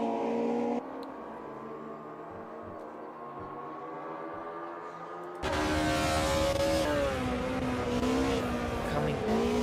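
A historic Le Mans race car exits the Dunlop chicane, its engine a steady, tonal drone that jumps abruptly louder midway into a hard, rising rev as it accelerates away.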